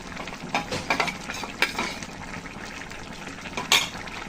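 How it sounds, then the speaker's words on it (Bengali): Coconut paste and mustard paste go into a pot of half-cooked vegetables for a Bengali shukto, heard as a few soft clinks and scrapes of a spoon against the pot over a faint background sizzle. "এখন আমি দিয়ে দিচ্ছি একটা নারকেল বাটা, দিচ্ছি সরিষা বাটা"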